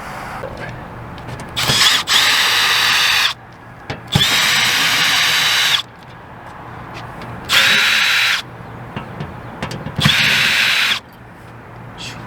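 A power drill backing out the cover screws of an electronics control board unit, sounding in four loud whirring bursts of a second or two each, separated by quieter gaps with faint handling noise.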